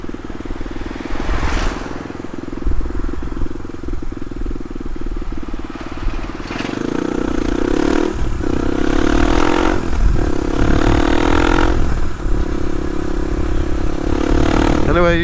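A Suzuki DR250S with a Dominator R exhaust idles, then gets blipped through four or five sharp rev bursts that rise and fall in quick succession, loud and near.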